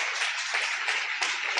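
A church congregation at a Sunday family service claps steadily for newcomers, a dense even patter with no voices over it.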